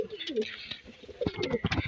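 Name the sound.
Kaldum pigeons cooing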